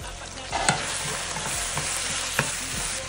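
Carrots and cabbage stir-fried with beef cubes for pancit, a steady close sizzle with scraping stirs of the spatula against the pan and a couple of sharper clinks, no talking.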